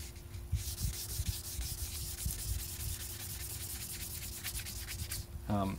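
Steady, rasping sandpaper strokes as a Buell XB9SX motorcycle tank cover is hand sanded, rubbing back and forth, continuous and close, with a low hum underneath.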